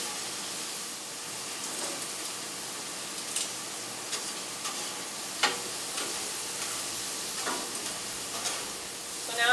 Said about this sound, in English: I'm going to stir up the mushrooms a little more here